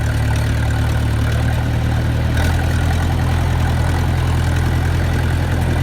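A John Deere 2020 tractor's diesel engine runs steadily close by, a loud, even low rumble with a slight shift in pitch partway through, working on a cattle farm during hay feeding.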